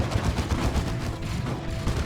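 Shotgun fire in the Dawn of War 2: Retribution real-time strategy game, a rapid, dense burst of battle shots and impacts crackling continuously, moderately loud.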